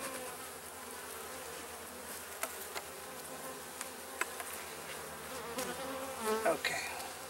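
Honeybees buzz steadily at close range during a hive inspection shortly after installation, a continuous insect drone with a few brief clicks and rustles, and no talking.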